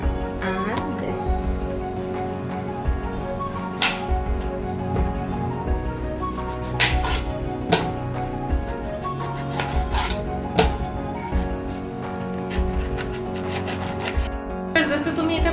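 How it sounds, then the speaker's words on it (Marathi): Fruit such as pear and dragon fruit is chopped finely with a knife on a board for fruit custard, heard as sharp, irregular knife strikes that stand out over steady background music and kitchen sounds. "आपण हे फ्रूट्स आता छान धुवून घेऊया आणि याला बारीक चॉप करून घेऊया"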